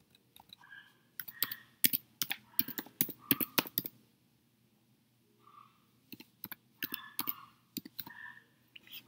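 Someone types a new Wi-Fi password on a computer keyboard: crisp, close keystrokes in irregular clusters with a short pause midway, over a faint steady hum.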